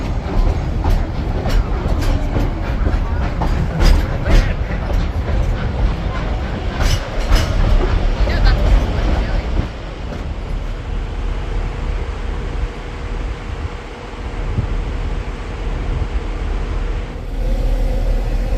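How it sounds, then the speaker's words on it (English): A train rumbles along with rhythmic clickety-clack and metallic rattling, loud and steady, then settles into a smoother hum with a faint tone near the end. "we have made it back from our train ride"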